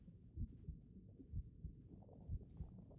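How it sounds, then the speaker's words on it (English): Slow, muffled heartbeat thumps in a video game pulse at a steady rhythm over a low rumbling background, soft and close. "Why do we hear a heartbeat?"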